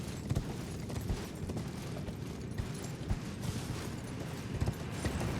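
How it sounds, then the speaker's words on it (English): Torrent, the spectral horse in Elden Ring, gallops steadily with soft rhythmic hoofbeats under a dense rumbling game soundscape, no voices over it. "I was trying to get Torrent to turn, and instead Torrent was like, keep going forward?"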